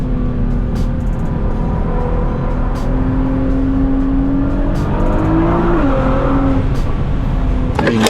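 A Nissan GT-R with a loud exhaust drives a canyon road, its engine droning steadily and close throughout with shifting pitch as it accelerates and eases, no talking over it.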